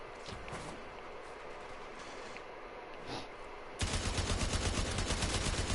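Tiburon Prime firing full auto in Warframe: after a stretch of quieter game ambience, a loud, dense stream of rapid, evenly spaced shots starts suddenly and keeps hammering to the end.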